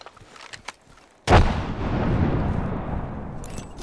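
In a video game, a frag grenade goes off with a sudden loud, close blast and a long rumbling decay, after a few light clicks and footsteps.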